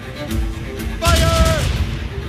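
Ship cannon fire in the video game Assassin's Creed Rogue, set on icy waters: a loud boom lands partway through, over a rumbling sea-battle backdrop with faint tonal game sound; no clear speech.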